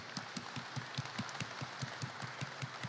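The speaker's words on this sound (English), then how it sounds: "give him a round of applause for the great restoration that he's done on this" Audience applause for a restored Farmall tractor at a presentation, a steady wash of many hands clapping throughout, moderately loud and continuous.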